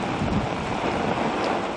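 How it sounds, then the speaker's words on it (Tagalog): Strong ocean waves and gusting wind from Typhoon Paulo in northern Aurora, a loud continuous roar of surf and wind buffeting the microphone with no pause. "Ramdam yan sa lakas ng mga alon at hangin."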